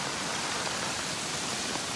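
Flood water rushing across farm fields in rural Konkan, a steady, dense broadband roar with no breaks, continuous and fairly loud throughout.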